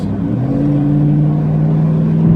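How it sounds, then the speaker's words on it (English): A loud, steady engine rumble from a large vehicle close by, droning low and constant throughout without any speech. "Let this truck go by because he's making a lot of noise."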